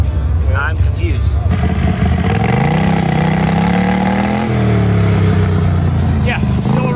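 A turbocharged Predator 670 engine on a dragster runs roughly, loud and close, its revs wavering up and down with an uneven drone while people talk over it.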